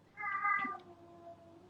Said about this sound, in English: that's my cat, he's called Eric